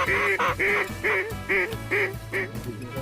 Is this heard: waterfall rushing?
no